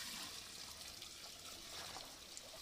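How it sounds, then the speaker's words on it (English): Fresh untreated water pouring into a small azolla pond after it has been drained, a faint, steady trickling splash heard alone. "now I refill my pond with some fresh water"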